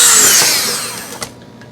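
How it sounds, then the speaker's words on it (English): A power drill with a small bit drilling holes in wood whirs loudly at high speed, then winds down and trails off, with a short click near the end. "I just have a small drill bit"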